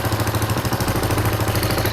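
A Suzuki GN 125 sidecar motorcycle idles close up with a loose exhaust and a crankcase leak, its single-cylinder engine chugging in a loud, fast, even pulsing rhythm.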